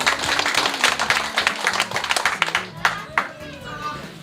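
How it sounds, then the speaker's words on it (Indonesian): A campaign crowd in Kampung Kaprus, Sough Wepu District, claps for the Deputy Regent: dense, close applause over a pulsing music beat, thinning into a few last claps. "Tepuk tangan untuk Bapak Wakil."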